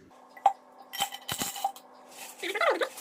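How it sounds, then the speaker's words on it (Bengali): Aquarium stones dropped gradually into a fish tank, giving a few scattered close clinks and rattling pours, with brief voices nearby. "পাথরগুলো আস্তে আস্তে দিতে হবে"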